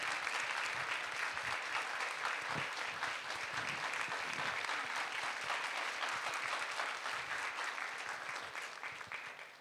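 Congregation at Yeongam Church applauds graduates of a church discipleship training course, a sustained wash of clapping from a large room that gradually tapers off toward the end.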